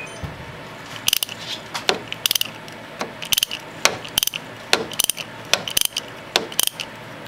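Ratchet clicking repeatedly while loosening a spark plug on a Mazda6 3.0L engine, bursts of sharp metallic ticks in an uneven rhythm of short strokes, close and crisp with no talking.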